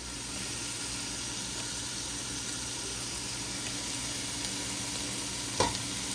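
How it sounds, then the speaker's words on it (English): Onions and vegetables sauté in a hot pan, a steady close sizzle with occasional stirring scrapes and one brief knock near the end. "So let's get to sauteing the vegetables first."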